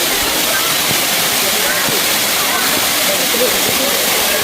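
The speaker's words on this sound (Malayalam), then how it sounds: "ഇതാണ് തുഷാരഗിരി വെള്ളച്ചാട്ടം." Thusharagiri waterfall roaring as a loud, constant broadband rush of falling water, close and unbroken throughout.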